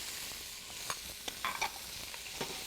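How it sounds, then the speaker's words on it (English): Onions, carrots and celery for a mirepoix sizzle quietly in a braising pan with beef roast drippings, under a soft steady hiss broken by several scraping stirs and clinks of a utensil. "Really stir those up"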